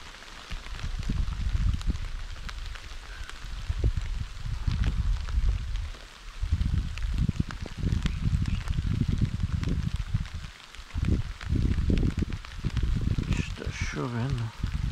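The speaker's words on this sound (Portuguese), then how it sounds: "Aqui tá chovendo." Rain falls outdoors during a fishing trip, a continuous broad hiss of drops with low rumbling gusts underneath, steady throughout.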